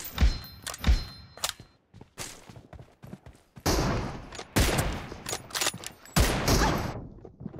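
Gunfire in the mobile battle royale game BGMI played on an iPad Mini 5, with bursts of rapid shots, thuds and dense overlapping volleys, loud and close, broken by brief pauses.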